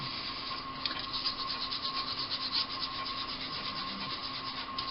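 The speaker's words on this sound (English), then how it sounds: "tip a little bit on each side, rub it with my finger" A fingertip rubs copper glitter onto peel-off sticker wings, making a faint, continuous, close scratchy rubbing with no pauses and no speech.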